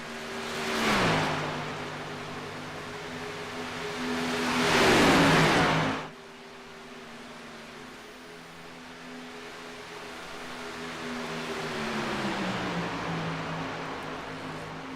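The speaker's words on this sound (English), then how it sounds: "let's listen to the sounds of NASCAR as we go" NASCAR race car engines in a superspeedway sim racing game: a steady engine drone with shifting pitch, punctuated by two loud rushing swells as cars pass, then a quieter sustained hum.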